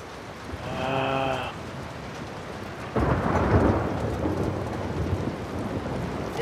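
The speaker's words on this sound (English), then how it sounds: "It is a very stormy day." Thunderstorm with rain in the video game The Last of Us Part II: steady rainfall throughout, a loud broadband thunder rumble breaking in about halfway and rolling on, plus a brief tonal call early on.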